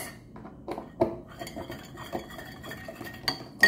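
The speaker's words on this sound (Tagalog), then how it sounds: "And lalagyan ko na ito ng ice." Ice cubes dropping into an iced coffee drink, giving several separate clinks and clatters against the glass over quiet background, close and fairly soft, with no voices.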